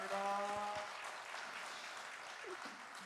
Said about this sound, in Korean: 열정적으로 강의해 주신 다시 한번 박수 부탁드리겠습니다.